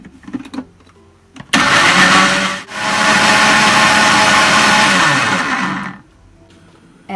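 A kitchen blender whirs through lentil curry ingredients (onions, ginger, garlic) with water, its motor roaring loudly and steadily for about four seconds, with a brief dip early on before it settles back to a full, even grind and cuts off.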